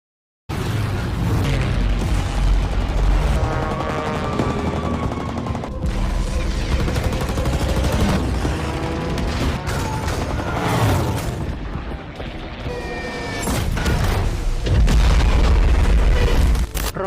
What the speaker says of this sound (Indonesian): Ledakan dan kilatan peluru pun sudah tak bisa lagi terelakkan